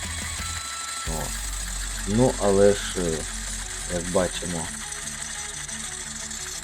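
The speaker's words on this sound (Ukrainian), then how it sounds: "Бачимо тракторець 90-го року, а працює і досі." A 1990 DMTZ 220 mini tractor, likened to a Chinese T-25, runs with a steady low mechanical drone and rattle while someone talks over it.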